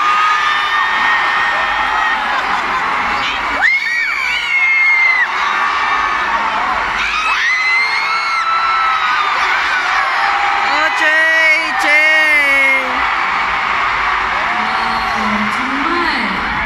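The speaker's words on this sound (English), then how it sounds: "So like any other big arenas, I think your screams were so loud." A large arena crowd at a K-pop fan event in Manila screams and cheers continuously, loud and dense, with high-pitched shrieks and whoops rising in waves over the roar.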